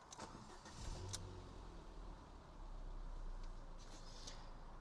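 A 2016 Ford Fiesta Zetec engine cranks and catches about a second in, then settles into a low, steady idle that rises slightly; quiet and recorded nearby.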